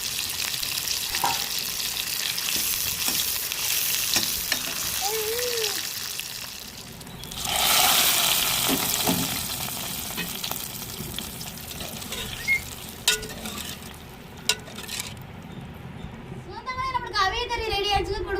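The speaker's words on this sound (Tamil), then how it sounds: "வெட்டி வச்ச வெங்காயத்தையும் சேர்த்துக்குருவோம் தேவையான கருவேப்பிலை போட்டுக்கிறோம்" Sliced onions and curry leaves fry in a pan for a fish curry, a steady close sizzle with stirring scrapes and a louder hiss midway as ingredients go in, while a voice talks over it.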